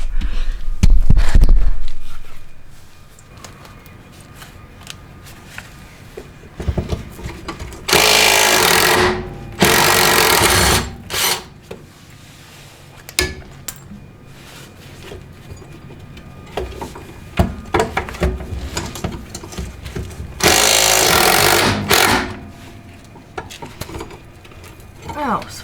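A power tool tightens bolts while new T3 suspension is fitted to a 50-year-old vehicle, firing in several short, loud bursts separated by quieter gaps of clinks and handling noise.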